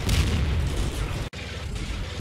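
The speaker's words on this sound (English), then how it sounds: "As it mops them up, it gets hit by hand grenades and immobilised." Hand grenades burst against a Jagdpanzer in the Combat Mission Final Blitzkrieg video game: dense, loud rumbling blasts roll on, briefly cut to silence, then continue as a heavy low boom.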